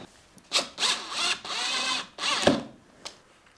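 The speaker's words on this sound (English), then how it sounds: "you shouldn't be using an electric drill on that" An electric drill whirs in several short, loud bursts, pausing between runs as it drives a waxed screw into a Stratocaster-style guitar build, with a final brief spin at the end.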